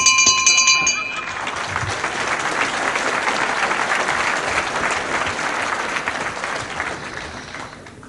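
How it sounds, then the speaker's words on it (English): A wrestling ring bell clangs several quick strokes, ringing brightly at the start, ending a round of a televised professional bout; crowd applause then swells and continues loudly, with a commentator talking underneath. "Almost on the bell now of the second."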